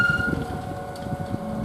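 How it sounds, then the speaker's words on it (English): A train pulling away from Ely station, a steady low rumble with a sustained high whine and tonal hum, moderately loud and continuous throughout. "Now this train's going"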